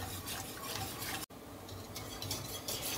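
Stirring a pot of water and macaroni on the stove for a family meal, a steady scraping swirl that runs continuously for a few seconds and breaks off briefly partway through.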